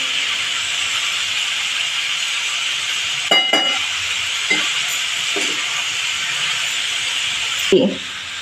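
Breadfruit curry (bhaji) being stir-fried in a pan gives a steady loud sizzling hiss, broken by a few soft clinks and scrapes of stirring, close up with no talking.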